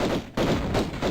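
Pistol gunshots in a horror video game: a couple of sharp, loud bursts separated by a brief gap, followed by another close blast, with no talking.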